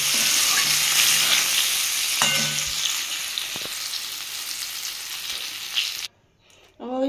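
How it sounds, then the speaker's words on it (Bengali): Brinjal fries in hot oil with a loud, steady sizzle and occasional stirring clinks, then the sizzle cuts off abruptly near the end. "দেখুন বন্ধুরা আমার বেগুনটা ভাজা হয়ে গেছে"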